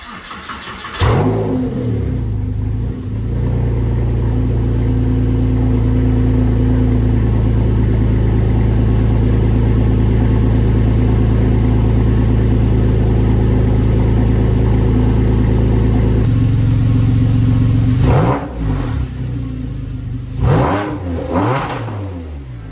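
A 2006 Porsche Carrera S 997 fitted with a Soul Performance exhaust starts and settles into a loud, steady idle, then closes out with several sharp throttle blips, up close.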